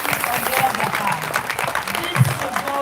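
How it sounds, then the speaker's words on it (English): Audience applause at a human rights advocates celebration, a steady wash of clapping from a crowd that continues through the clip with slight swells, some voices mixed in. "can we please applaud these days?"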